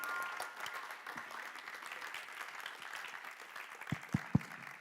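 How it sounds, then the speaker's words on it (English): A small group applauding PhD students at a project coordination meeting, soft, distant scattered clapping with a few louder close claps near the end. "Big round of applause to all of them"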